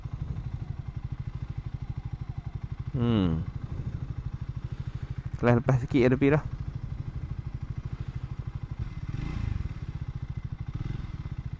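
A Triumph Speed 400 motorcycle rides a short test run, its engine giving a steady low rumble throughout, with someone talking briefly over it and a few short clattering knocks midway.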